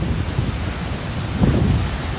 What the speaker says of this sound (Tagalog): Tignan natin yung lakas ng alon.